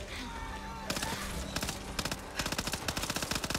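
Rapid bursts of video game gunfire crackle in quick repeated volleys, growing denser toward the end, with background game sounds throughout.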